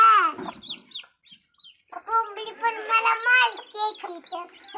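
Soft clucking from a hen mixed with high chirping peeps from chicks, close by, with a voice breaking in now and then.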